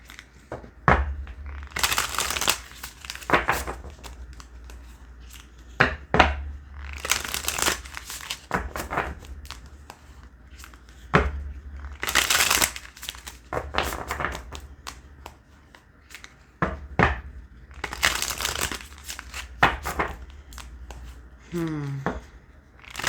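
Tarot cards being shuffled and handled in bursts of crisp riffling and papery crinkling, close up, with quiet pauses between the bursts.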